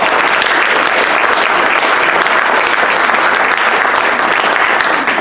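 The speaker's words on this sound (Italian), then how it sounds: "vi chiedo di fare un applauso alle voci di questa serata, Andrea Renzi," Loud, steady applause from an audience fills the hall at an evening literary reading event of the Strane Coppie 2019 series, dense clapping sustained throughout without a break.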